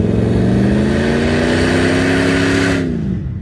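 An off-road vehicle in sand revs hard and accelerates, a loud, close engine roar with rising pitch held for about three seconds before the throttle eases off.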